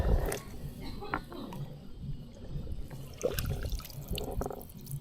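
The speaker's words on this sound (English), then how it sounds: "So this should be pouring out water." Water splashing and trickling from a slightly clogged drain line into a catch basin, with uneven gushes and drips heard at close range.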